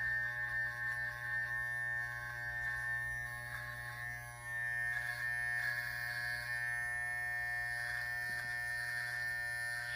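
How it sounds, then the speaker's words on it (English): Electric hair clippers trim a man's beard just above the lip with a continuous, close buzzing hum that stays steady and fairly quiet, with slight shifts as the blades move through hair. "Here I'm shaving right above his lip."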